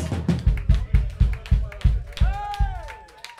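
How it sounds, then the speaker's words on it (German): Concert crowd at a music club in Graz gives a short burst of applause, a few close, distinct claps at a steady rhythm followed by a brief whistle. "Riesen Applaus."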